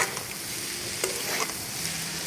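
Onion, potato and yardlong beans fry in a pan with a steady, close sizzle and occasional stirring scrapes.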